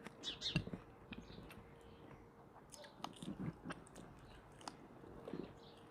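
A child chewing rice at a family dinner makes soft, close biting and crunching sounds in irregular bursts, faint and intimate, with small clicks between chews.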